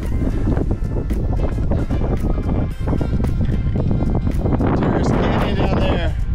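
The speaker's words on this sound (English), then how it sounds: "Sounds like it's windy right here in the notch." Strong wind gusting through a rocky mountain notch in desert canyon country, a steady loud roar of buffeting air across the microphone throughout, with a person speaking over it.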